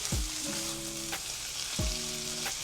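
A low-carb egg roll filling of cheese, seasoning and minced garlic sizzles and fries in a hot pan on a just-switched-off burner, a steady crackle with two clanking scrapes of stirring.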